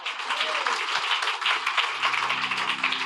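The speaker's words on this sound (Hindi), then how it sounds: "जोर से आप ताली बजाओ।" A church congregation claps loudly and continuously in rapid overlapping beats, with a low sustained tone entering partway through.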